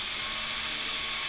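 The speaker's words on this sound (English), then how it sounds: "drill it on through." A power drill boring pilot holes through a vehicle tailgate panel, a steady high whine held close and loud for a moment with no pause.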